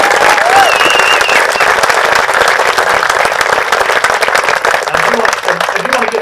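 A crowd at a military retirement ceremony gives a sustained round of applause for a band, loud and dense clapping filling the room evenly from start to end, with a brief faint voice near the end.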